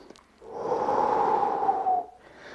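A single long, deep breath taken while holding a back-bending chest-lift stretch during a no-equipment Pilates workout, a steady airy exhale lasting about a second and a half, close and clear with no talking.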